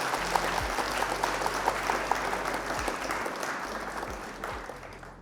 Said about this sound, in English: Round of applause for you as well.